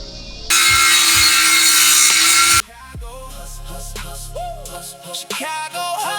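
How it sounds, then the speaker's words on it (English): A saw cuts through the wood of a subwoofer box in a loud, close, rasping burst of about two seconds, then stops as background music takes over. "we're gonna get this box cut down to size, do some reconfigurations"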